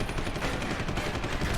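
Rapid gunfire from the Deus Ex: Human Revolution video game rattles in a steady, dense burst for under two seconds, fairly faint with no talking.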